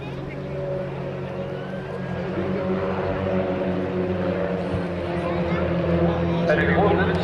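Aerobatic aircraft of Formation Team The Victors at an air show, their engines a steady droning roar that swells slightly, heard at a distance under a voice commenting.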